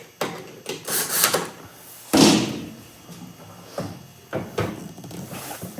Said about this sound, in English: And the door will lock into place just like so.